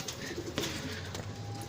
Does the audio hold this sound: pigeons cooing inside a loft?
yes